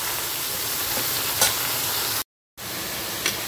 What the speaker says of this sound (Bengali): প্রথমে আমি ঝিঙেটাকে খুব ভালো করে ভেজে নেব।